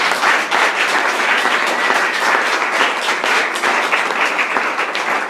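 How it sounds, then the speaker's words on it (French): A church congregation at a worship service breaks into loud, sustained applause, dense steady clapping filling the room evenly from start to finish, with faint voices mixed in. "Applaudissons le Seigneur."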